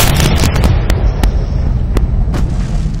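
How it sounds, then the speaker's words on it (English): Rapid booming blasts and sharp cracks of explosions in the video game Alan Wake pile up over a constant low rumble, with several distinct bangs standing out, loud and close. "Explosions!"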